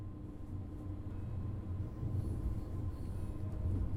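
A third-generation Siemens ICE intercity express built in Germany rolls along in Train Sim World 2, a steady low rumble and hum of wheels and motors, fairly quiet and unbroken throughout.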